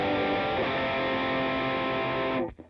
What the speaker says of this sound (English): Versus if you take that signal and it goes through like a pedal or like an amp or whatever, then it would sound like this.